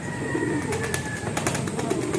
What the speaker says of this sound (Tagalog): Kunin mo na aking ibon.